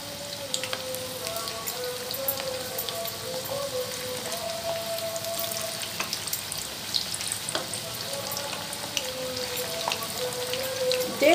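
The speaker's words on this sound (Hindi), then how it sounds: "तेल गरम होने के बाद मीडियम फ्लेम पे फ्राई करेंगे" Chicken 65 pieces frying in hot oil on a medium flame, a dense crackling sizzle with scattered pops, steady and close throughout with no talk.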